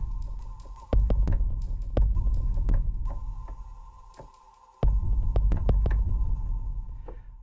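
A synthetic drum groove with deep booming kicks and sharp hits over a steady electronic hum, pausing briefly before the beat restarts.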